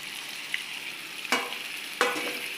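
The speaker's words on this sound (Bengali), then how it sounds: "এবারে যে আমি চিকেনটা আধা ঘন্টা হয়ে গেছে ম্যারিনেট করে রেখেছি ওটা দিয়ে দিলাম" Marinated chicken sizzles and fries in a pan of spiced masala, a steady close crackle with a couple of sharp clatters and stirring bursts, no talk.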